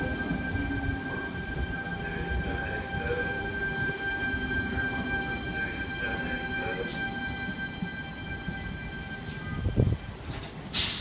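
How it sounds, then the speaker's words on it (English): A Sydney passenger train idles at Helensburgh station platform with a steady mechanical hum and tonal whine, faint clanks and a brief squeal near the end, voices murmuring faintly. "There is a once-a-day train that terminates in Helensburgh."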